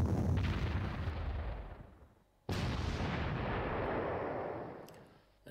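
Artillery or heavy gunfire in the Panzer Campaigns war strategy game, set at Kursk in 1943: a long roaring blast that fades out, then a second sharp report that rumbles on, loud and without speech.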